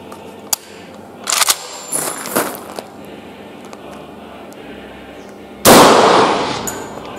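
SVD sniper rifle chambered in 9.6x53 Lancaster, fired once outdoors: a loud sharp blast that trails off, preceded by several fainter metallic clicks and clangs of handling.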